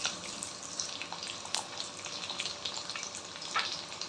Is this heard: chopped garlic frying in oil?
yes